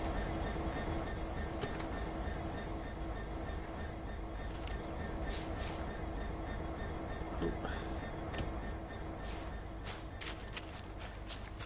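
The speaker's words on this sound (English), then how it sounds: "They really do need to sort the engine sounds okay on this" Train engine rumble from a simulated locomotive in the Train Sim World game, a steady low drone throughout with scattered clicks and brief higher tones near the end.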